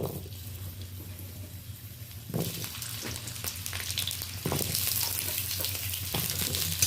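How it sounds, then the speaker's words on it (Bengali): Potatoes fry in mustard oil with salt and turmeric, giving a steady close sizzle with occasional stirring scrapes. The frying swells louder after a couple of seconds and keeps going with no voices. "লবণ হলুদ দিয়ে আলুটা বেশ লালচে করে ভেজে নেব"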